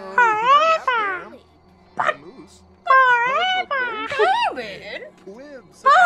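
A cat in The Sims 4 video game gives a run of loud, close, drawn-out meows in several separate bursts, with a person talking in between.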